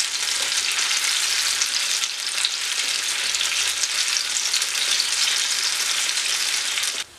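Banana fritters (pazham pori) deep-fry in hot oil, making a loud, dense, unbroken bubbling hiss up close that holds steady for several seconds before cutting off abruptly.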